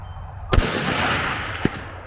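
A Savage 110 bolt-action rifle fires one loud, sharp crack outdoors, followed about a second later by a fainter, short metallic ping of the bullet striking a distant steel target.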